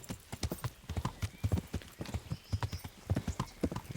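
Horse hooves galloping in the video game Kingdom Come: Deliverance, a rapid, steady clip-clop of repeated thuds close up, with a faint voice in the background.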